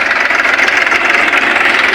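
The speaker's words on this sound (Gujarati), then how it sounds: "આ ટ્રેક્ટર છે" A tractor engine runs at a steady idle close by, a continuous loud mechanical drone with no talk over it.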